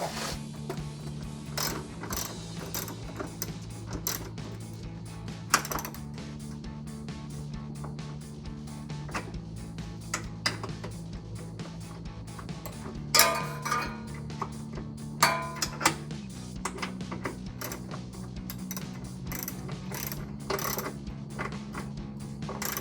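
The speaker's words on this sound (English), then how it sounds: "Go ahead and tighten those down." Ratchet tightening 13 mm bolts on a Corvette C7 axle-back exhaust, with quick bursts of rapid clicking repeated over and over at close range beneath a faint steady hum.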